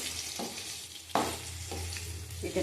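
Steady oil sizzle of a whole cauliflower frying in a pan, with a few short stirring clicks and one sharper knock.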